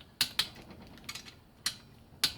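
ARP cylinder studs on a Honda CB750 engine click as a torque wrench tightens them, several sharp clicks spaced irregularly and close up, with no talk.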